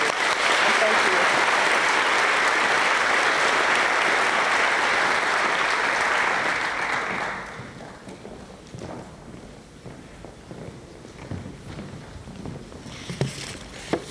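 A college audience breaks into dense, sustained applause for newly introduced faculty, loud and steady for about seven seconds before fading to scattered claps and room noise.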